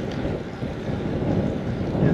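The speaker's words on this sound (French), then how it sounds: "Il y a un petit vent de face là pour la fin là." Headwind blowing against a cyclist near the end of a 200 km ride around the Baie de Somme, a steady, loud, low rushing roar buffeting the microphone with no speech.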